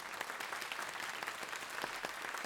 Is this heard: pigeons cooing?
no